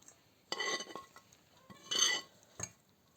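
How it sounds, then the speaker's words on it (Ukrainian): Vegetables tipped into a bowl of cooked funchoza glass noodles with mussels, giving two short bursts of soft clattering and clinking, then a brief final knock; quiet and close, with no talking. "Тепер овочі висипаємо до хунчози"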